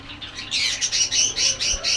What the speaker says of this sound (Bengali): চড়ুই